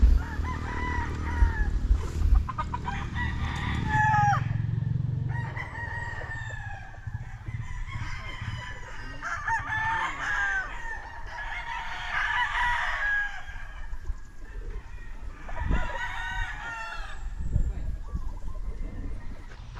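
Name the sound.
roosters crowing and chickens clucking at a poultry farm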